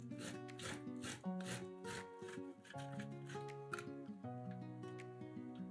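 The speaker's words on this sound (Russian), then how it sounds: "На крупной терке трем крабовые палочки" Crab sticks are rubbed against a coarse grater in rhythmic scraping strokes, about a dozen quick rasps in a steady back-and-forth beat, close by, with background music running underneath.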